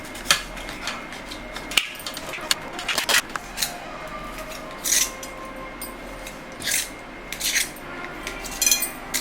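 Chapati cut into pieces with short, dry snips and scraping cuts, repeated irregularly and heard close but faint against a quiet kitchen background, with some soft talking.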